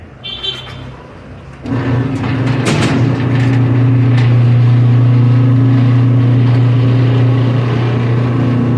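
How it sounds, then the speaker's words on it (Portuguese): A PPA Potenza SCP automatic gate motor starts up and runs with a steady close mechanical hum and whine, holding level for several seconds after a brief quieter lead-in. "Mais um motor PPA, Potenza SCP, instalação MA Portões."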